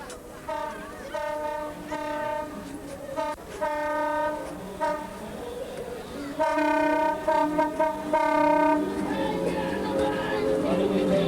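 A train horn on a carnival train float blows in repeated long blasts, loud and close, during the 1986 St Albans Carnival street parade, over a rumbling background with some chatter.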